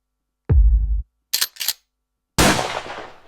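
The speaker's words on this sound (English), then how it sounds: "So we want a reload sound first." Mechanical gun-handling sounds: a heavy low clunk, two quick sharp metallic clicks, then a loud crack that rings out and fades.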